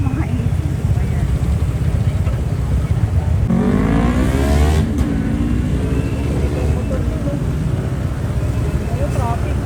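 Steady road traffic rumble near a concert festival ground crowded with fans, a vehicle passing with a rising whine midway, all under continuous nearby chatter and voices.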